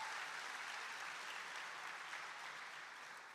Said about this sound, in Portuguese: Vamos aplaudir eles merecem.